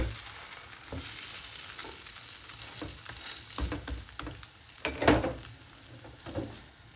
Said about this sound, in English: just go in with your flatbread and let it cook on one side